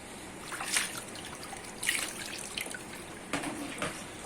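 Tap water trickles and splashes over a puppy during a bath, a soft, steady stream with faint spatters nearby, quiet and without voices.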